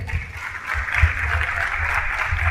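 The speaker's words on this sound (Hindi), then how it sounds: "उन दोनों दोस्तों के लिए जोरदार ताली बजाइए।" A seminar audience breaks into steady, loud applause, a dense wash of clapping that holds for a couple of seconds without letting up.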